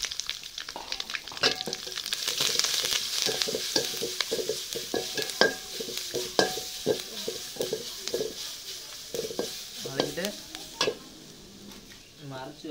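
Ground pepper, cumin and garlic paste fry quietly in oil, and a spoon stirs and taps against the pan in a quick run of irregular metallic clinks over a low sizzle.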